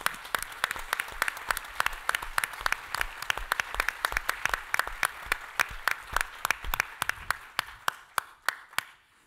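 Audience applause at a metascience panel discussion, thanking a panelist named Bruce: dense steady clapping from many hands for about nine seconds, thinning toward the end into a few separate claps.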